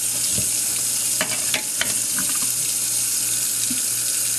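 Water runs steadily from a tap into an apartment sink as it fills, a continuous close rushing with a few brief clinks and knocks over the flow.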